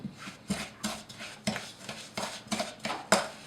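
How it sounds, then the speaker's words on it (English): A utensil works sugar into softened butter in a dish. Rhythmic scraping strokes repeat about twice a second, close and moderately loud, with no talking. "And cream the sugar in the butter."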